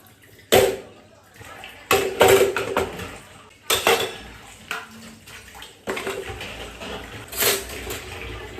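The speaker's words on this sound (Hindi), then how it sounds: "तो बर्तन वॉश हो गए थे" Dishes, pots and utensils are washed in a home kitchen: repeated clattering knocks and clinks of metal and crockery arrive in irregular bursts over running water, close by, with a voice speaking faintly at moments.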